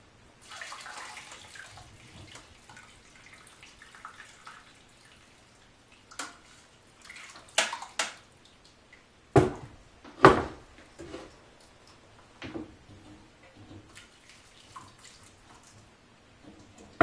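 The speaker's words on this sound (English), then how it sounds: "take some more hot water, pour it over top of these vegetables" Hot water poured over strained vegetables in a bowl while making bone broth, heard as brief splashes and trickles with clunks of the pot and bowl between quiet pauses.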